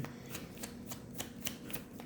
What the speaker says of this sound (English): I'm being told to shuffle again for some reason.